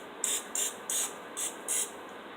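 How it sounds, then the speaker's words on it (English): Butter spray from a can misted over keto cheese biscuit dough, five short hissing bursts in a quick, fairly even rhythm, close and clear with quiet gaps between them. "Butter spray, and just hit each one."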